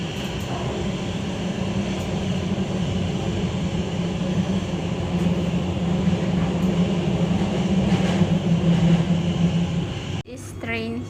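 Passenger train in Norway heard from inside the carriage, a steady low rumble and rolling hum that continues throughout and drops away abruptly near the end, with faint background voices.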